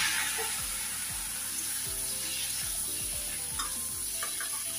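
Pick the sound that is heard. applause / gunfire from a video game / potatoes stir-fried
potatoes stir-fried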